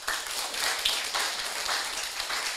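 An audience at a closing session claps briefly, a close, dense patter of hand claps lasting a couple of seconds with no talk over it.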